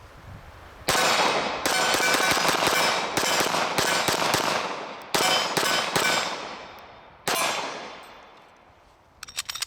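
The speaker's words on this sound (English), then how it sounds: "I'm just holding down that safety as I shoot it" Sarsilmaz SAR-9 pistol fired in a rapid string of sharp, loud, close cracks with ringing tails, several shots in quick succession and brief gaps, with no talking.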